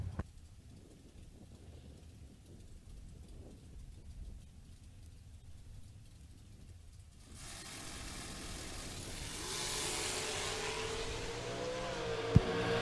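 Drag racing cars at a Working Man's $10 Grand event, an S10 pickup and a Camaro, start with a low rumble, then a loud broadband engine roar swells and sweeps past as they launch and accelerate away.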